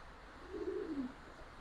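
A red, white-eyed giribaz pigeon at a breeder's loft gives a single soft, low coo midway through, heard nearby against quiet background hum.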